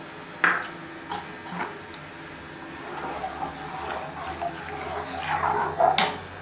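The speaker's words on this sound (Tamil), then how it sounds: "சேர்த்து லம்ஸ் இல்லாமல் நல்லா கிண்டி விட்டுருங்க" Spice paste stirred into a pot of buttermilk kuzhambu, with a few sharp spoon clinks against the metal rim and soft scraping, sloshing stirring between them, close and moderately loud.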